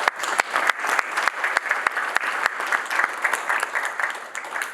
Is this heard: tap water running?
no